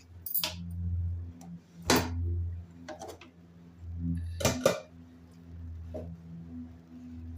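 A pressure cooker being opened after cooking lentils, with a few sharp metallic clinks and clatters of the lid and vessel spaced out over a low steady background hum.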